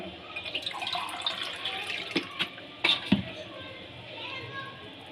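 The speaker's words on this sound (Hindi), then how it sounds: "ये 2 गिलास मैं इसमें पानी शामिल करूँगा।" Water poured into a cooking pot while making chicken pota, a splashing, trickling fill running under nearby talk and children's voices, with a few louder clinks toward the end.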